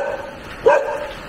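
A mountain dog gives a single short bark over faint background noise outdoors near a roadside market stall.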